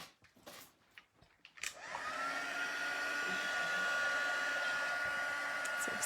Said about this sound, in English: so let me just grab my heat tool and we'll emboss that